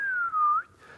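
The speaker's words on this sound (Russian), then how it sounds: "извините за свист" A person whistles a single sliding tone during a church history lecture, the pitch dipping and rising again before breaking off, loud and close, followed by a fainter held note.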